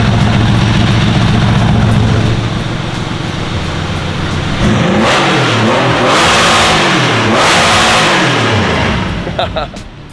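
A Porsche 964 with stock headers and a Japan-spec exhaust revs loudly at close range, its engine note climbing and falling in repeated swells, with a brief voice heard near the end.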